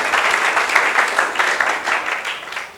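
A church congregation applauding during a worship service, a dense, steady wash of many hands clapping that swells slightly in places and continues throughout.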